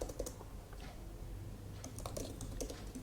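Fast typing on a computer keyboard while entering Python code, a steady close patter of key clicks for a few seconds with no voices.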